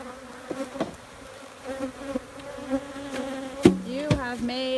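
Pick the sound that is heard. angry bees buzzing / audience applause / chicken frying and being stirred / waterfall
angry bees buzzing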